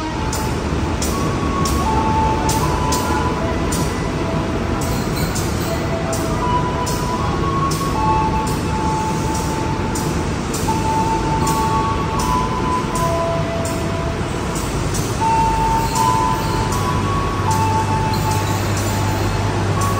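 An airport train on the West Sumatra railway rumbles and hums steadily close by, with a continuous low drone, faint tonal whines and repeated clicks above, and little talk.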